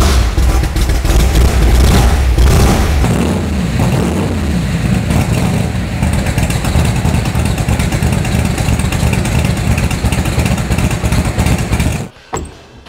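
A 1966 Shelby Cobra engine rumbles loudly for about twelve seconds, swelling and revving steadily up close, then cuts off abruptly near the end.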